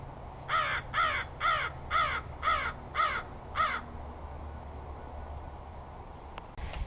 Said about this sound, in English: In all my life, I don't think I've ever seen a baby raven.